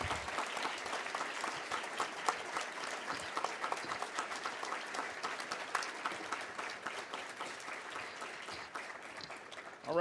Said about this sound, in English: Let's give both of these candidates a hearty round of applause.